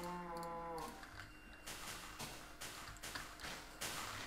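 A single cow moo from Minecraft Beta 1.2 opens, low and tonal for under a second, followed by soft taps and thuds of in-game movement.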